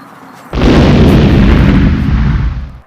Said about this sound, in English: Now for the final explosion.